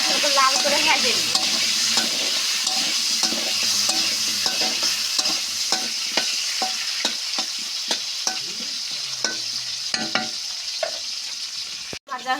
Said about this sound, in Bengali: আমি আলুটা সুন্দর লাল করে ভেজে নিব।